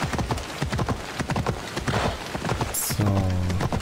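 Donkey hooves clip-clop steadily at close range in the Assassin's Creed Odyssey video game, a brisk even rhythm with brief game effects near the end; someone speaks faintly under it.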